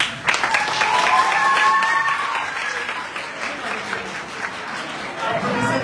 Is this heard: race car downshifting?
no